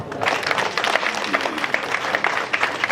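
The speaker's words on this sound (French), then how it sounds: "Je voudrais qu'on l'applaudisse." Steady audience applause at a public speech event, a dense wash of many hands clapping at moderate level throughout, with no clear voice on top.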